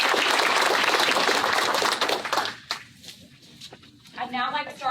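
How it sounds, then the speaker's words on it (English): Applause from a township candidate forum audience fills the opening two seconds, loud and dense, then fades into quieter room sound with a voice speaking near the end. "Can we get a round of applause for position?"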